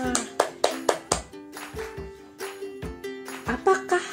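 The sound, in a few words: children clapping hands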